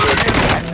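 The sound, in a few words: gunfire in a video game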